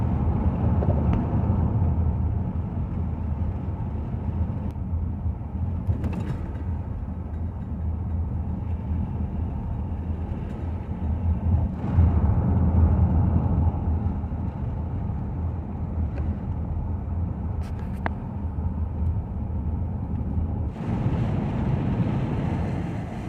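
Car driving away from a mountain visitor center, heard from inside as a continuous low road and engine rumble with wind noise, steady and fairly loud throughout, with no talk.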